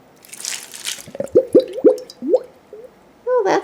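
Water gurgles and glugs from a gardener's watering container as it is lifted: a quick run of bubbly, rising gulps and drips, close and fairly loud, ending in a final burst of sloshing.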